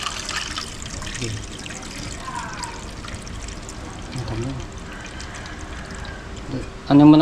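Water trickles and pours into a cooking pot for soup, with soft splashing scattered through the clip, while people talk nearby and a louder voice comes in at the end.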